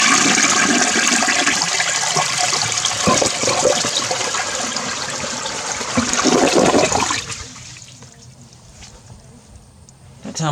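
An old toilet loaded with a dozen golf balls flushes for the second time, a loud rushing gush for about seven seconds that then drops to a quieter trickle and refill.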